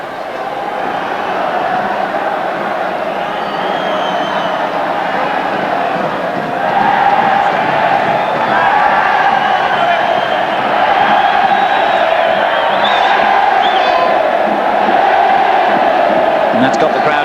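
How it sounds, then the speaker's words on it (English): A large football stadium crowd at a Recopa Sudamericana match between Boca and Atlético Nacional, a dense continuous roar of cheering and chanting that swells midway, heard from a distance. "And that's got the crowd excited now"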